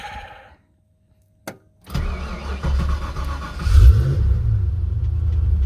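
A 1990 Ford Mustang notchback starts after sitting about a month and a half: a brief click and crank, then the engine catches and settles into a loud, close rumbling idle that swells with a rev.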